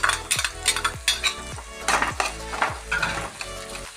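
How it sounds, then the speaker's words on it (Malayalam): Onion, garlic, green chilli and carrot fry in coconut oil in a pan, a steady close sizzle broken by repeated scraping stirs and clinks of a spatula against the metal, with no voices. "അപ്പം എല്ലാം കൂടി ഒന്ന് ഫ്രൈ ആവട്ടെ."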